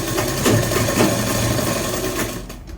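A sewing machine runs steadily while stitching elastic onto a chooridar, a continuous close whirring motor drone with slight surges that slows and stops at the end.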